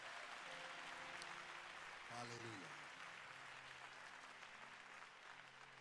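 A church congregation at an anniversary service applauding, a soft, steady wash of clapping that continues throughout, with a preacher speaking and singing over it.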